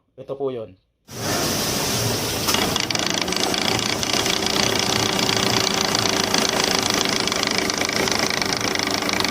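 A car with a bad universal joint making noise underneath, heard as a steady, loud mechanical hum and rumble that runs continuously after a brief spoken phrase at the start.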